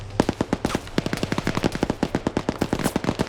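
Rapid automatic gunfire rattles in sustained bursts with dense, evenly spaced shots, loud and close, from a military shooter video game match.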